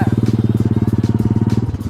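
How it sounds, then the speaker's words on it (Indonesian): A Honda Supra X125 underbone motorcycle rolls downhill on an off-road motocross track, its engine putting out a steady loud chugging pulse close by, with faint bits of voice in the background. "Inilah kalau motor bebek kita bawa ke arena motocross"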